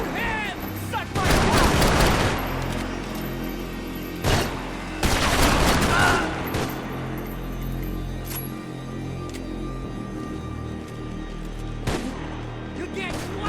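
Gunfire in the video game Max Payne 3, set in a slum: loud bursts of shots and booms in clusters, heaviest in the first seconds and again near five seconds, with sparser shots later over a steady game backdrop, with voices speaking at times.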